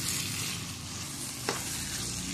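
Garam masala powder is stirred into a pot of dal mash, a continuous soft scraping and sizzling with one brief sharp clink of the spoon partway through.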